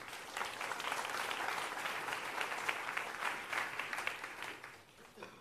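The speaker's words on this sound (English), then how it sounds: "Well done for applauding the video." An audience at an innovation summit in New York applauds after a video, quiet, steady, dense clapping from a crowd that carries on for about five seconds before tapering off.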